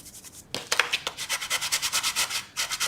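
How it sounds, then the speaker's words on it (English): A squeegee spreads glue across cardboard at the corners of a small boxed lunch box, making a run of quick, evenly spaced scraping strokes with a brief pause near the end, close and fairly loud. "Squeegee in the glue around our corners."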